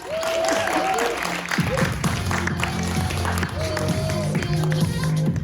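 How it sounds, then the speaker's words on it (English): An audience gives a warm round of applause at a comedy club improv show, loud, dense clapping that continues throughout, with whoops rising over it. "So please give a warm round of applause for Table Read."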